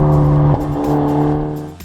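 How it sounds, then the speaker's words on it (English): A Hyundai Veloster N with a three-mode exhaust system drones loudly up close in a steady, low engine hum, the tone dropping briefly midway before settling back. "the ability to change the 3-mode exhaust system that lets drivers decide how much or how little of the Veloster N's"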